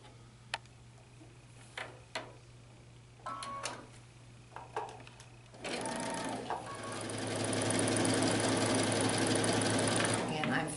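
A sewing machine stitches quilt block pieces together, starting with a few short, sharp clicks and bursts of hum, then settling into a steady, close, continuous whir of running stitches that builds and holds to the end.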